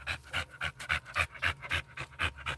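Dog panting hard and fast close up, about a dozen even, rhythmic breaths in quick succession.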